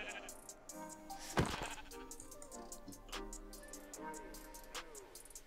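A goat in a video game gives several short bleats, faint and scattered over a quiet backdrop of game sounds and soft thuds.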